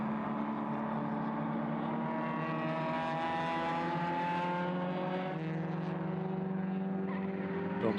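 A BMW 323 and a Datsun 1200 race car braking into a corner on track, a sustained mid-distance engine drone with shifting tones, loud and steady with no talk.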